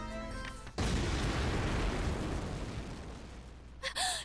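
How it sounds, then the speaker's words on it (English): A large explosion in the video game Labyrinth of Refrain gives a sudden heavy roaring burst that holds for about three seconds and then fades, ending with a short vocal sound. "Before the explosion can consume them, Number One conjures a mud exit to the surface and pushes Mizuluka through."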